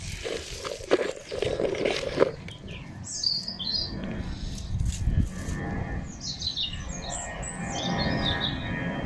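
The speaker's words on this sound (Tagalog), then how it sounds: "Maraming ibon." Many birds chirp and twitter outdoors at a farm during harvest time, bright clustered calls in the second half above a low background rumble, with a cow lowing faintly earlier and no talk.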